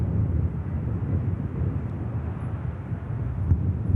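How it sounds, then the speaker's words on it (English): An EasyJet airliner arriving from Funchal touches down on the runway. Its distant engine roar is a steady low rumble mixed with wind buffeting. "Here's EasyJet from Funchal just touching down"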